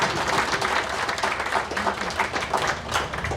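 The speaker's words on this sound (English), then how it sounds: "So how about a round of applause for Ted and his team?" Applause from a crowd gathered at an outdoor political party picnic, steady dense clapping throughout at moderate distance, with faint voices mixed in.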